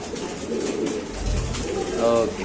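Mundian pigeons at a market stall give soft, low cooing throughout, with a throatier swell near the middle; someone talks over them.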